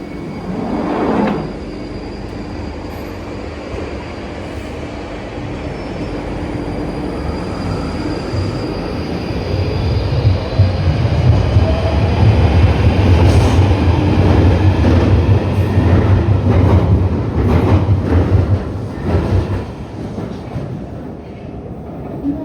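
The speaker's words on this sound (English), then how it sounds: "I do love the sound of the Northern Line" London Underground Northern Line train running toward Edgware, a loud, steady rumble and roar of wheels on rail with rhythmic clatter and squeals building as it travels, no talk over it.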